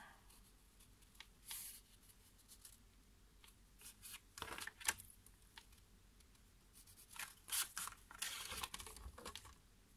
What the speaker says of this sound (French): je viens couper une languette de 2 cm